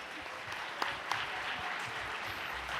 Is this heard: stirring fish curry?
no